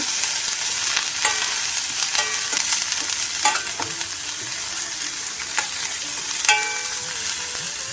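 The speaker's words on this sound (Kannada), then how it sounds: "ಈರುಳ್ಳಿ ಒಂಚೂರು ಟ್ರಾನ್ಸ್ಪರೆಂಟ್ ಆಗಲಿಕ್ಕೆ ಒಂದು ನಿಮಿಷದಷ್ಟು ಟೈಮ್ ನಾವು ಇದನ್ನು ಬಾಡಿಸ್ಬೇಕಾಗ್ತದೆ" Onion and capsicum sauté in a hot pan, with a constant bright sizzle broken by irregular scraping strokes of a stirring spoon.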